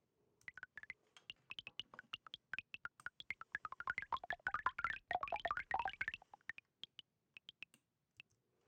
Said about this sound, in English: I've mapped the water flow to water droplets that become louder and more dense the higher or lower the rate.